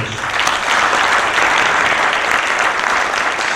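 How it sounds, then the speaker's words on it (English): Steady, dense applause from a conference audience at an opening session, loud and continuous throughout with no talk over it. "let's give them a round of applause"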